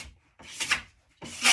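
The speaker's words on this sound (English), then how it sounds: "I do little sections, kind of light and quick, okay, with the scraper." Plastic scraper drawn in short, light strokes along the waxed base of a nordic ski, working from tip to tail; three soft, close scraping passes with brief pauses between.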